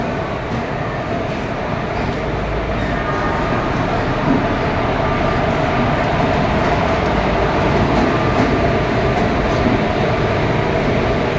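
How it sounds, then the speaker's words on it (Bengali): Continuous heavy rumble and rattle of the Ranchi Steel City Express rolling into platform 20 at Howrah station, a loud, unbroken rail clatter with faint station noise. "রাঁচি স্টিল সিটি এক্সপ্রেস কিন্তু এখানে ঢুকে গেছে আমাদের প্ল্যাটফর্ম নাম্বার 20-তে"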